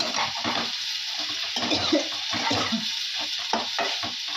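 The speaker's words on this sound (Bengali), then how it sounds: "শুটকি মাছ রান্না হচ্ছে" Dried fish (shutki) cooks in a pan in a home kitchen, giving a soft sizzle under irregular stirring and clinking of utensils against the pan.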